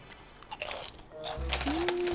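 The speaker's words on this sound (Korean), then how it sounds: "한우 육회랑 그리고 찹쌀 김부각 그냥 같이 먹어줄게요." Someone bites and chews crunchy glutinous rice seaweed chips (gim-bugak) eaten together with Korean beef tartare, with a few crisp close crunches and a brief hum from the eater.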